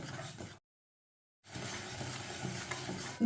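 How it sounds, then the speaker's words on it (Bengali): Yogurt and spices being stirred and sautéed in a pan for a potato curry: a quiet close sizzle and stirring scrape, broken by nearly a second of total silence before the frying resumes. "দইটা দিয়েও একটু ভালো করে কষিয়ে নিলাম।"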